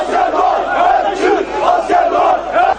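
Crowd of AK Party supporters cheering and shouting in Istanbul as soldiers who stormed the TRT studios surrender to police, a loud, dense, continuous roar of many voices with rising whoops throughout.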